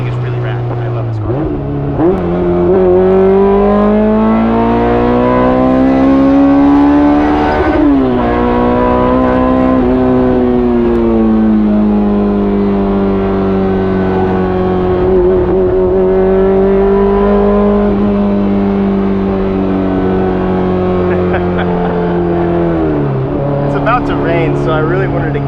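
A Honda S2000 with a built K24 engine pulls hard on the road, its exhaust note rising and falling through gear changes at close range, with someone talking over the engine throughout.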